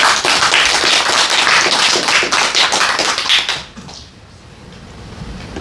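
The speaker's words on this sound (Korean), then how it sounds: "박수." A crowd at a live talk-concert event in Cheonan bursts into dense, close applause, then stops abruptly, leaving only a quiet room murmur.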